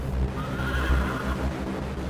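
A horse neighs in a single loud, quavering whinny heard close up over a low rumbling background, in a dramatized historical setting.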